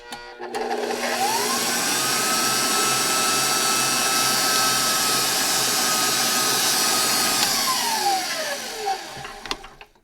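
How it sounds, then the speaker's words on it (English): An electric mixer runs on high speed through brownie batter, a steady loud whirring drone that spins up at the start and winds down at the end, with no talking. "we're going to mix this again on high till it's all incorporated"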